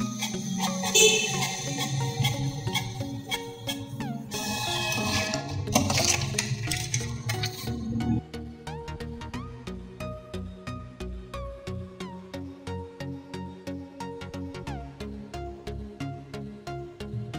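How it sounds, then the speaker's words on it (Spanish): A Canon G-series inkjet printer feeds and prints a page after an error reset, first whirring and clattering loudly, then settling into a steady run of regular mechanical ticks from the moving print carriage. "damos power y esperamos que imprima la hoja."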